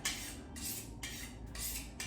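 A kitchen knife drawn repeatedly across a sharpening steel, four even scraping strokes in steady rhythm, faint and close, with no voices.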